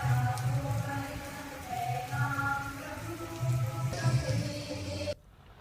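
Light, steady monsoon rain falls over Veraval and Sutrapada, a continuous soft patter with some low tonal sounds mixed in, cutting off abruptly just before the end.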